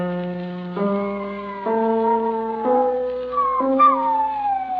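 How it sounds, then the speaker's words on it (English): A big, fat spaniel howls along with a piano, its drawn-out, wavering tones rising and falling in steady steps over sustained piano notes, close and fairly loud throughout. "I remember the wife's dog, big, fat spaniel it was. He was howling along at the piano the way he always did."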